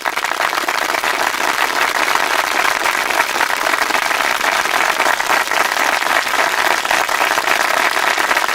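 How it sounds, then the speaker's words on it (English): Studio audience at a live entertainment show applauding, a thick, continuous roar of clapping that holds at an even, loud level for several seconds without voices on top. "The applause is always for"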